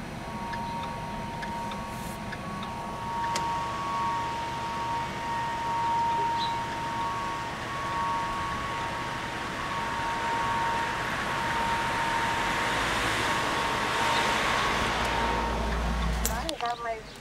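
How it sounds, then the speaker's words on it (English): A long steady tsunami warning siren wails from a distance, droning on for many seconds over outdoor background noise and faint voices. "There goes the sirens."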